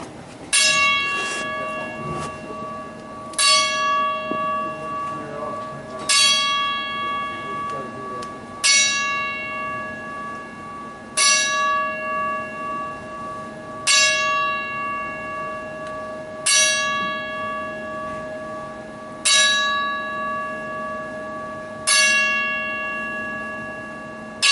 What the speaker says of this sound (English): give Big Daddy Vic Von Erich a final 10-bell salute